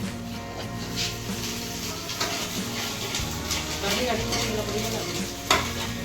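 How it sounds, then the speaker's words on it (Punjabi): A tadka sizzles in hot oil for an egg dish in a home kitchen while a spoon stirs and scrapes the pan, a close, busy crackle over a background of voices or music. "ਲੋ ਜੀ ਲੱਗ ਰਿਹਾ ਤੜਕਾ"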